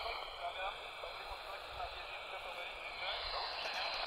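Broadband hiss of radio static during an emergency communication test from Kopiec Piłsudskiego in Kraków, steady and continuous across the whole stretch with faint low rumble beneath and no clear voice.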